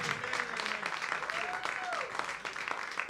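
A church congregation applauds during a sermon on Black families in Berkeley schools, a steady wash of clapping with a few voices calling out over it.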